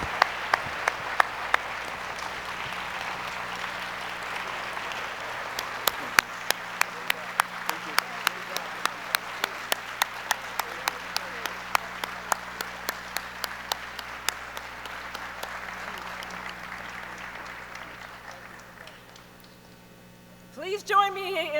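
An auditorium crowd at an MLK symposium keynote applauds at length, a sustained wash of clapping with some sharper individual claps over a low electrical hum, tapering off before a voice speaks at the very end.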